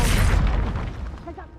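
A fiery Incendio spell blast in the Hogwarts Legacy video game, one loud booming burst that hits at once and slowly fades over about a second and a half.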